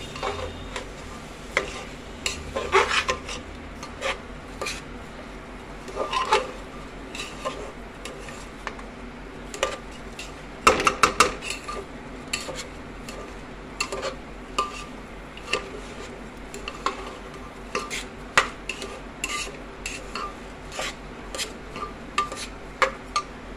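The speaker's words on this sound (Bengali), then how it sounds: "একটু ভালো করে নেড়ে নিই।" Dal and Gobindobhog rice being stirred in a pot gives repeated scraping and clinking taps of a spoon against the pot, irregular and close, with a faint sizzle beneath and no voices.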